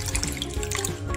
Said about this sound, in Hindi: और फिर से मैं इसमें थोड़ा सा पानी डाल देता हूँ थर्ड टाइम